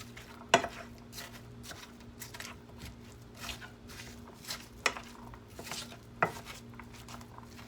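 Diced garlic and apple cook in a pan with a soft sizzle, broken by occasional sharp clinks and scrapes of a utensil stirring against the pan.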